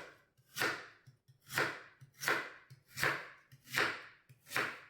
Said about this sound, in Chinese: 对半切开，再切成小块。